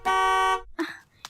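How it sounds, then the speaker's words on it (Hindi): A car horn outside blares in one long, steady honk, followed by a short burst of voices and a brief second toot. "ये बाहर गाड़ी का हॉर्न कौन बजा रहा है इतनी देर से?"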